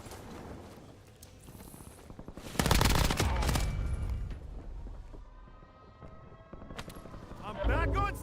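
Bursts of automatic gunfire crackle in a shooter video game, with a loud close volley in the middle and sharper bursts near the end over steady battle noise, while voices call out.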